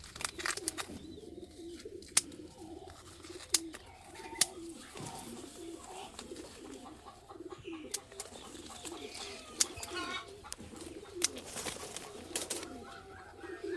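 Racing pigeons coo in soft, low repeated phrases close by, with sharp clicks and wing flutters scattered throughout, while someone talks quietly in between.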